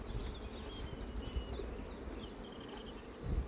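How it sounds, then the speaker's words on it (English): Bees buzz around an opened beehive during a colony inspection, a soft, steady hum with individual insects zipping past, faint and close. "now the bees all over the inside of the lid as well"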